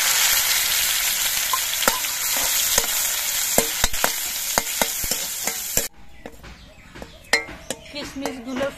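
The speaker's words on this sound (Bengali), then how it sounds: "এবার কিশমিশগুলো ভাজবো" Raisins frying in ghee in a wok, a loud sizzle broken by regular sharp scrapes of a spatula that grow sparser and quieter as the hiss drops.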